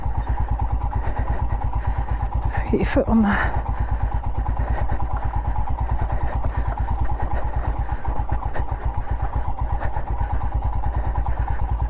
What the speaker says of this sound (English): So let the engine do the braking.